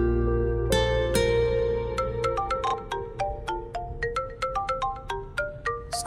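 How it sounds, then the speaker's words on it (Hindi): A phone ringtone plays a bright, repeating melodic tune, clear and close, with no voices. "उसका फोन है। अम्मी का फोन है।"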